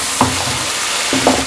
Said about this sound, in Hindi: ये देखें 1 से 2 मिनट के लिए इसके साथ भूनना है मसालों को गोश्त के साथ